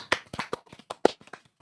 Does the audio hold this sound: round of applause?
yes